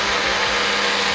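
A small portable blender runs on frozen smoothie ingredients with a loud, steady whirring roar that stays constant throughout and has no voices over it.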